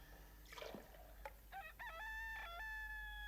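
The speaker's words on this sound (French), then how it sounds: "Le coq, déjà?" A rooster crows once, a clear rising and falling cock-a-doodle-doo heard at a distance in a quiet room, preceded by a faint rustle.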